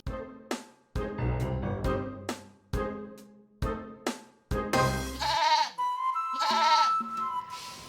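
Goat bleating in a sequence of loud, close, wavering calls at a steady pace, followed by higher tonal cries at the end.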